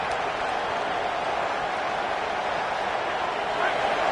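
A football stadium crowd roars in a steady, dense wash of noise that fills the space without letup, loud and sustained from start to finish.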